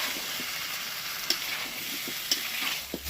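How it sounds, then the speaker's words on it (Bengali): Potato and pumpkin stirred with ground spices and split green chillies in a hot pan: a continuous close sizzle with occasional spatula clinks against the metal, no voices. "এবার এটাকে মশলার সাথে কষিয়ে নেব"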